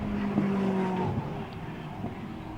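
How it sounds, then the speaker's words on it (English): JMH Automotive Lamborghini race car rounding the Snetterton hairpin during an endurance race, a fairly near engine note rising then fading as it passes through the corner. "Through the hairpin for the last time goes the JMH Automotive Lamborghini"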